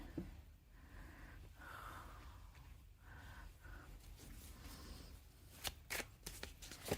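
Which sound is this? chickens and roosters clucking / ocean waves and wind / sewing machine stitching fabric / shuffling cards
shuffling cards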